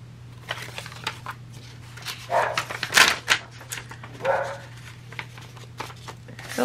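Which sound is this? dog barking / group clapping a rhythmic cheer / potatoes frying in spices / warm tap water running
dog barking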